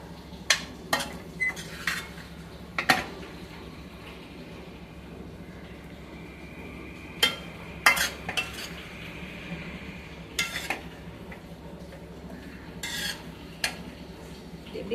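Raw mango rice with coconut being stirred and mixed in a vessel: scattered sharp clinks and scrapes of a spoon against metal, irregular and fairly close, with soft shuffling between them and no talking.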